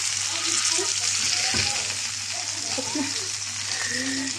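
Liver searing in a hot pan, a steady loud sizzle and crackle of frying meat with occasional stirring scrapes, with a faint voice underneath.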